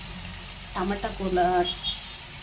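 Vegetables with tomato and garlic sizzle and fry in a pan, a steady hiss under brief speech and a few clinks of stirring.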